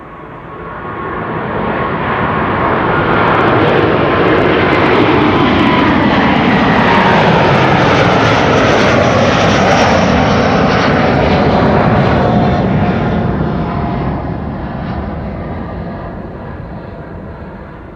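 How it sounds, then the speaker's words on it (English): A Delta Air Lines jet bound for Boston takes off from Amsterdam Schiphol, a loud, broad engine roar that swells in, stays strong for several seconds, then tapers off into the distance. "And here we go, Delta Airlines flight 243 to Boston, Massachusetts."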